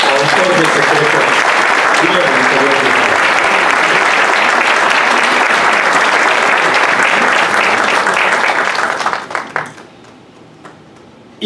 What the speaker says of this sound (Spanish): un aplauso para mi querido Polo Mendivi, autor del secreto